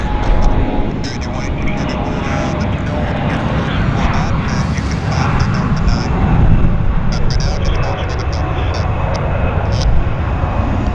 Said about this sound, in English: CRJ on the roll